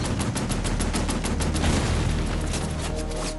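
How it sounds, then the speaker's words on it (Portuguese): A tank and troops fire at the 1944 Falaise pocket battle in World War II France, heard as a dense, rapid string of loud gunshots and booms with no pause. "Os tiros passam sobre as cabeças dos alemães."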